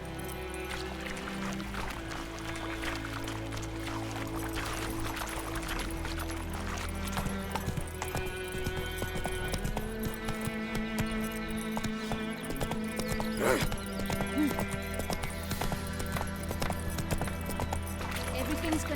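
Roach the horse gallops in The Witcher 3, a steady clip-clop of hooves running under a dense, continuous bed of game music and ambience throughout.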